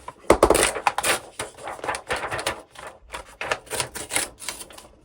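A large sheet of paper being torn for journal folio pages, a run of crisp ripping and crinkling bursts close by, loudest at the start, then several shorter tears and rustles.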